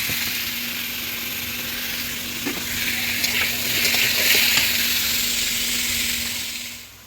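A chopped vegetable curry goes onto the heat in a village kitchen and sizzles in the pan. A steady, broad hiss carries a few faint knocks, then fades at the end.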